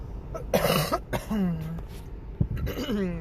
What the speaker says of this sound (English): Still that weird last little bit of that COVID cough